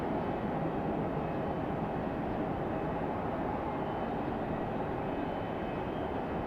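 An ATR turboprop aircraft arriving at Raleigh-Durham International, a constant, dense low roar held at steady loudness across the whole stretch, with no voices.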